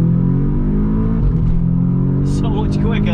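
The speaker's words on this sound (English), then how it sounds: "So we're in second gear now and the power is just" An Audi S3 8V with a stage 2 tune pulls hard in second gear, its engine droning steadily and loudly from inside the cabin, with someone talking over it.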